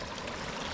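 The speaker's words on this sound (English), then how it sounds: "The water's flowing on top of the ice." Meltwater flowing over the top of a frozen stream along the Appalachian Trail gives a steady, close, broadband rushing wash with no breaks over a brief stretch.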